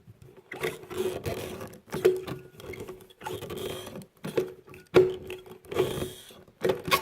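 Rivets being tightened on the foam gasket of a flush mount rod holder, producing close, irregular bursts of clicking and grinding from the tool, with short pauses in between.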